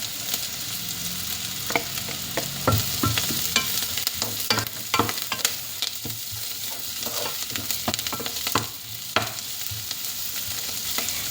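Onion and curry leaves fry in oil in a pan while a spoon stirs them, giving a continuous sizzle broken by irregular scraping and clinking.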